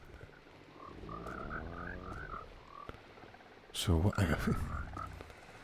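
Frogs croak in the video game The Vale, inside Locke Manor near a tower: a steady run of quick, repeated chirping croaks at moderate distance over soft ambience, followed by a short burst of speech and a few fainter croaks.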